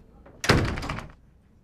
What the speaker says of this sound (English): I'm gonna go through this door.